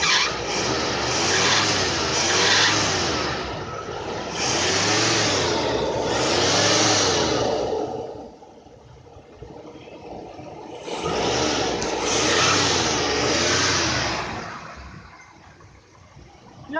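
A car engine at a car show is given gas in repeated revs. Loud, close rises and falls of engine pitch come in bursts, with a quieter idling stretch in the middle before more revving.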